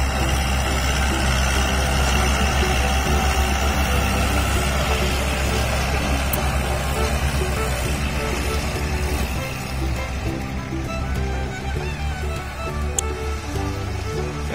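A John Deere 5045D and a Kubota L4708 tractor work side by side in a field, and their diesel engines drone loud and steady under full throttle, easing slightly toward the end.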